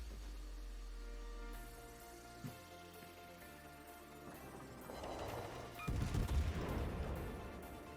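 The USS Buffalo, a Tier IX American cruiser in World of Warships, fires its guns, heavy booms building into a loud, rumbling salvo near the end, with quieter background game sounds before it.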